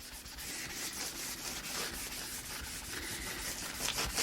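Pan pastels rubbed by hand across an art journal page in steady, rapid, close scratchy strokes that continue without pause or voices.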